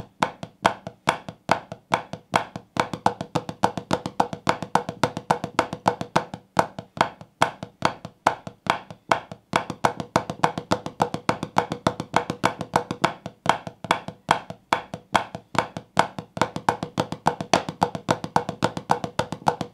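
Flam tap drum rudiment played fast on a drum, a continuous run of crisp, evenly spaced accented double strokes that sounds close and dry, with no talk for the whole stretch.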